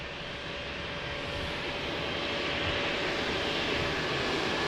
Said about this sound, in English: Nice approach and landing.